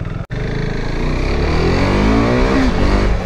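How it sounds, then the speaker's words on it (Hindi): A KTM RC 390 motorcycle engine runs loud and close after a brief dropout at the start, its pitch climbing steadily as it revs up, with no talk over it. "ये लो भाई स्टार्ट करके देखते हैं भाई, आज आवाज तो इसकी बिल्कुल स्मूथ लग रही है"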